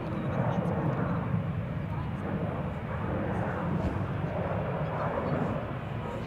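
Airliner taking off at Schiphol Airport, a continuous loud, low roar of jet engines that swells and holds steady, with people talking over it.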